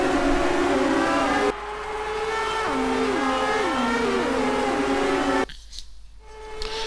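IndyCar race cars in a racing video game on the Surfer's Paradise street circuit, several engines whining loud and close with rising and falling pitch through gear shifts, overlapping as the pack runs single file.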